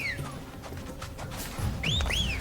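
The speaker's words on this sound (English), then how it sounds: "they reused the whistle to whistle for the chocobo" A whistle used to call a chocobo in Final Fantasy XVI: a couple of short rising-and-falling whistled notes near the end, over a busy game background of ambient noise and thuds.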